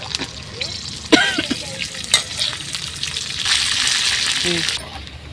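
Onions and pickle pieces fry in hot tempering oil for a bottle gourd curry, a steady close sizzle that swells louder toward the end, with a few stirring clinks and faint background noise.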